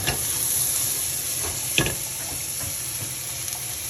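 Leeks softening in butter with garlic in a pan, a steady close sizzle throughout with a few light stirring clicks and scrapes, no voices.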